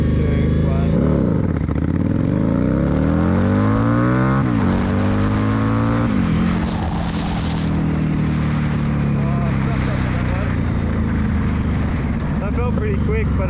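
A 2015 Harley-Davidson Night Rod Special roars hard from a standstill, its engine note climbing and dropping sharply at each gear change through three or four shifts, loud and close with heavy wind rush.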